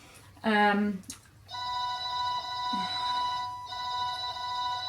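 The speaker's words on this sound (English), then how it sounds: "Phone ringing, right." A phone rings indoors with a steady, electronic tone repeating in bursts, a person talking briefly over it before the ringing continues.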